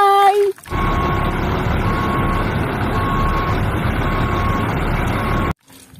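A toy cement mixer truck plays its built-in electronic sound effects, a loud steady stretch of engine-like noise that runs for several seconds after a brief tone, then cuts off abruptly.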